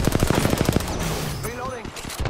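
Rapid automatic gunfire bursts from Apex Legends, a burst of loud close shots in quick rhythm followed by lighter weapon and movement effects, with a player's voice speaking briefly over the game sound.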